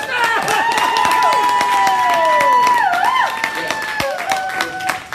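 A live seminar audience in Long Beach bursts into loud, continuous applause and cheering, with dense clapping and high shrill screams and whistles rising above the crowd throughout.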